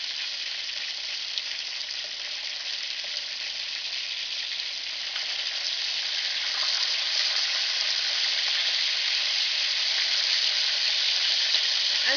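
Jamaican-style escovitch fish fries in a pan as the pieces are turned, a loud, steady hissing sizzle that holds throughout and grows slightly stronger toward the end, with no talk.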